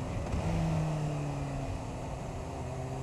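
A car engine revs briefly during a downshift. The engine tone is steady and moderately loud under heavy, continuous wind noise.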